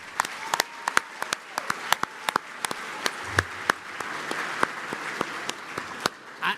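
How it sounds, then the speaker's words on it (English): Audience applause at a 30th anniversary awards gala, a dense crowd of hands clapping steadily for several seconds, close and fairly loud, with no voices over it. "Let's give them all a round of applause."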